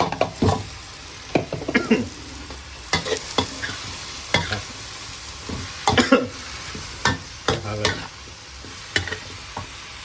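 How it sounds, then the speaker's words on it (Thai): Vegetables stir-fried in a hot wok with a spatula, sizzling steadily under repeated sharp scraping and tossing strokes, close and fairly loud with no talking. "เมื่อ วัตถุดิบพอสุกแล้วก็ใส่ผักเลยนะครับ"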